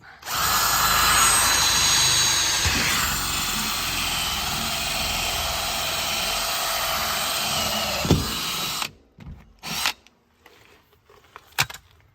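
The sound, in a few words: power drill drilling a hole for a spring water inlet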